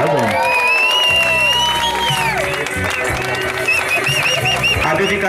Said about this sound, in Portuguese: salva de palmas pro nosso homenageado